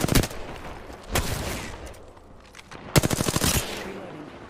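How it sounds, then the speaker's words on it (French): Rapid automatic gunfire from a player's weapon in Apex Legends, sounding in a short burst at the start, a single shot near the middle, then a longer rattling volley; loud and close with some speech around it. "Mais mon arme, elle tire toute seule"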